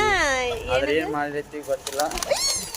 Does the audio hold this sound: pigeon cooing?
yes